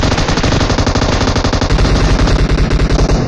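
Rapid automatic machine-gun fire in a Free Fire battle game, a loud, continuous burst of evenly spaced shots with no break.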